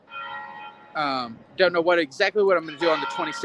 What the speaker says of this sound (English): you can hear the church bells ringing there